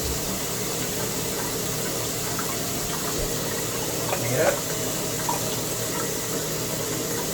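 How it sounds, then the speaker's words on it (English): Shower water runs steadily while a shaving brush is rinsed out under it, a constant close spray with a few splashy bursts. A person talks briefly over the running water. "Rinse this brush out real good. Just take it to the shower and give it a good pop."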